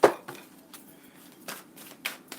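Tarot cards are shuffled by hand: a handful of short, crisp papery slaps and riffles spaced irregularly, close and moderately loud, with quiet gaps between them and no talk.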